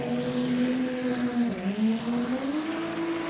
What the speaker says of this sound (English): You've certainly heard this boat go a little bit better than what it is so far